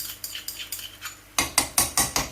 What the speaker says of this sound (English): So scrape the garlic, add it in.